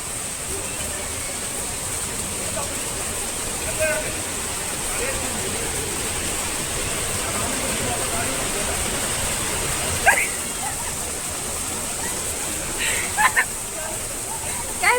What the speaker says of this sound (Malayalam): വെള്ളം കുത്തി ഒഴിച്ചൊഴുകാണ്.